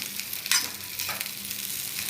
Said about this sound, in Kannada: ಫಸ್ಟು ಬೆಂಡೆಕಾಯಿ ಒಂದು 1/4 ಸ್ಪೂನಷ್ಟು ಎಣ್ಣೆ ಹಾಕಿ ಹುರ್ಕೋಬೇಕು.